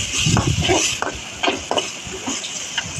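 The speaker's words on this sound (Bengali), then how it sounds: "এখন এগুলাকে ভালোভাবে নেড়ে ছেড়ে" Chickpeas with ginger and garlic stirred in a frying pan, a spoon scraping and clinking in uneven strokes over a soft sizzle, close and fairly loud.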